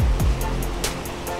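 Calm ocean surf washing onto a beach during surf fishing, a steady broadband rush of gently breaking waves with soft low swells, fairly close and continuous with no talking.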